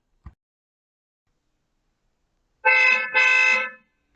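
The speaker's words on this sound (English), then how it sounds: "that horn honking noise means it's going to be time for a quick quiz question" A single car horn honks twice in quick succession, a loud, close blare after a short click and a stretch of silence.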